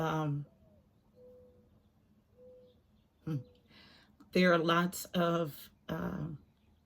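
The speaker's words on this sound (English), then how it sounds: "That's the mourning dove. That's continuing to coo." Soft, low mourning dove cooing notes drift in quietly at intervals, followed by louder, voice-like harmonic calls near the end.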